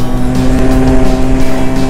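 A motorcycle rides past on a country road by a lake, its engine a loud, steady droning tone with rising and falling texture, heard up close from a scooter.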